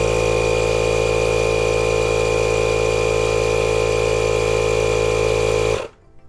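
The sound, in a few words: Milwaukee 2475-20 compact inflator pumping a tire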